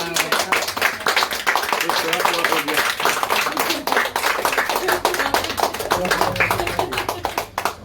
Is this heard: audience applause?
yes